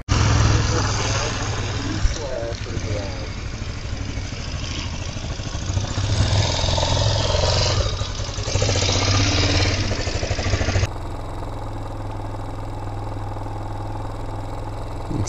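Raven 250 Enduro motorcycle engine runs on a new garage concrete slab, a loud, steady close-up engine drone with wind buffeting, then dropping to a quieter, even idle-like tone near the end.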